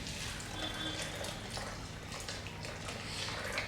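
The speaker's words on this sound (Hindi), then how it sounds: "इसमें मैं डालूंगा थोड़ा सा पानी" A small amount of water poured into a bowl of high protein oats, a soft, steady trickle heard close up at low volume.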